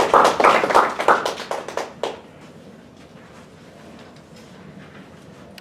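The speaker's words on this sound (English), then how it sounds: "let's clap for" A Toastmasters meeting audience breaks into a lively round of hand clapping for about two seconds, the claps dense and close, then quickly fading to a quiet room hum.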